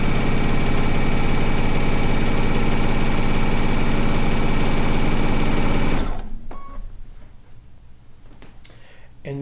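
A sewing machine stitches a stone log cabin quilt block with a steady, loud mechanical whir for about six seconds, then stops abruptly, leaving faint scattered handling sounds.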